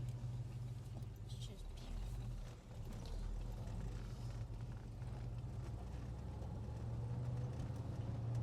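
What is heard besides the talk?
EFI El Camino driving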